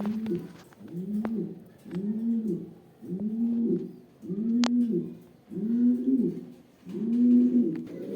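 A pair of Damascene pigeons coo in a steady, close series of about seven low, rolling calls, each separated by a short pause.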